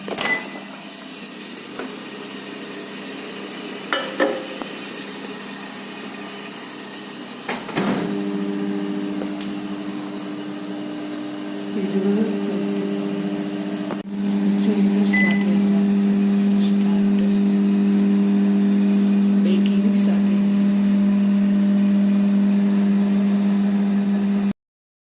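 An electric beater whips cashew nut batter for a carrot and papaya cake, a steady droning motor hum that steps up in pitch and volume partway through, preceded by a few clicks and knocks.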